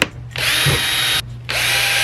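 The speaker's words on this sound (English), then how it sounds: "I'm gonna drill the holes for the seat bolts." A power drill whirs loudly in two close bursts while drilling holes for seat bolts, the first about a second long, then a brief pause before the second.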